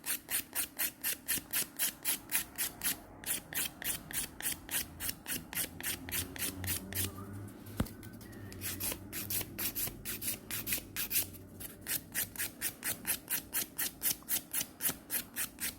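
A file is worked rapidly back and forth over a gel nail extension built on paper nail forms. It gives a close, rhythmic scratchy rasping with evenly spaced strokes, a looser, irregular stretch in the middle, and then a return to the steady pace.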